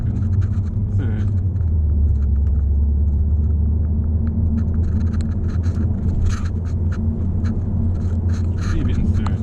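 A car with a dual-clutch automated gearbox pulls along in 3rd gear on tight, twisty roads, its steady low engine rumble constant and close throughout, with some faint scraping and rattles on top.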